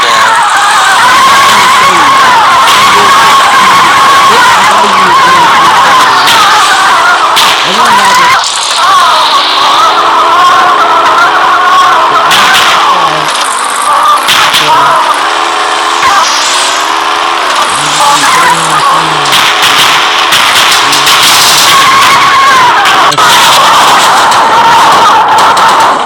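Car driving and skidding in the video game Payback 2, with a loud, continuous revving engine and repeated tire squeals that rise and fall in pitch, all mixed with game effects and no break across the whole stretch.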